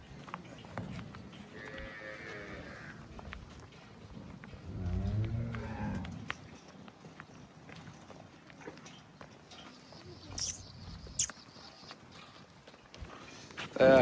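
Crossbred dairy cows at a cattle market, with a few low moos rising over a quiet farmyard background of shuffling hooves and footsteps, while people talk nearby.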